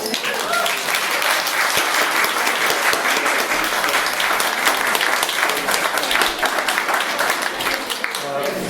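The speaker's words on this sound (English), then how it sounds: "Can I get one more round of applause" An audience at a book launch applauds steadily, dense clapping filling the whole stretch without a break, fairly close and loud.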